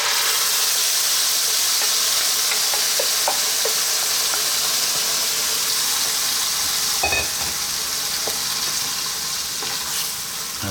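Curry mixture hitting a hot pan for a chicken curry gives a loud, steady sizzle and hiss that fills the whole stretch, with a few brief clinks and stirring knocks partway through.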